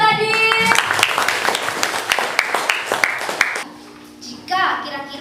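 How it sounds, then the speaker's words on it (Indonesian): Classroom of pupils clapping for a classmate during a dance-teaching lesson, a dense patter of hand claps over about three and a half seconds, then fading as a teacher speaks. "tepuk tangan dulu buat Adit"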